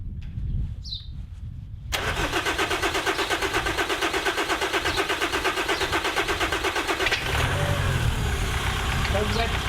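The diesel engine of a 2004 Nissan X-Trail T30 4x4, recovering from a diesel runaway, is cranked by the starter with a fast, even, churning rhythm that carries on for several seconds, close by, with people talking around it.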